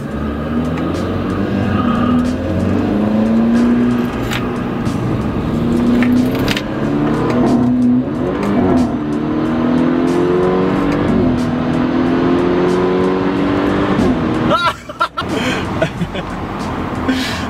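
A BMW with a dual exhaust accelerates hard during an informal street race, its engine note rising and falling in long sweeps, loud and close, with a sharp break near the end.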